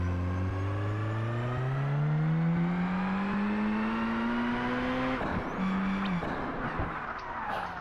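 A car in the racing video game Project Gotham Racing 4 drives with its engine revving steadily upward in pitch, then shifts and pulls back, loud and alone with no talk.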